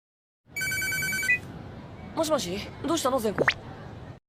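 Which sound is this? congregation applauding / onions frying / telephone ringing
telephone ringing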